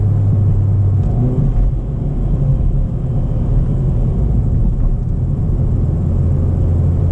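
A 2021 Hyundai Veloster N accelerating hard, a loud, deep rumbling engine and road roar heard from inside the car, sustained with slight swells, without talk.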